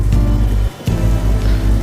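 Steady heavy rain sound effect for the Noah's ark flood story, a dense continuous wash with a low rumble underneath, loud and close, briefly dipping for a moment midway before resuming.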